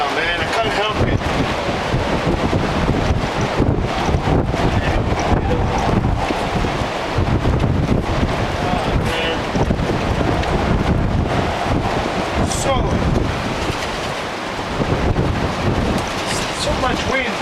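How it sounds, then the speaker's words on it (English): Strong gale-force storm wind roars and buffets the microphone continuously and loudly at the water's edge, with surf and waves churning underneath and a voice talking over it. "So much wind."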